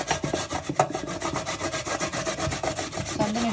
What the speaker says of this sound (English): I'm going to start grating the potatoes.